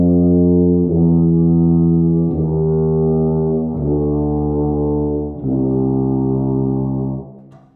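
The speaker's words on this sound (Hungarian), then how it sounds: "ugyanazt a hangot fújtam, mégis ahogy bekapcsoltam ezeket az eltérő hosszúságú csőszakaszokat, mindig megváltozott a hangnak a mélysége" A low brass horn holds a sustained tone, stepping down in pitch several times in a row as valves add tubing, each note deep, loud and buzzy.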